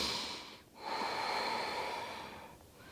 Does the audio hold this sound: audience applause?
no